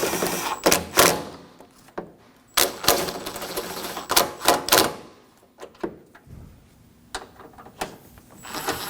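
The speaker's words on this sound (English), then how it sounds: "I'll be using a 10mm swivel to get these front ones." A ratchet with a 10mm swivel socket works loose bolts on a Honda's condenser cooling fan assembly, giving sharp bursts of clicking and clattering separated by pauses, close and moderately loud.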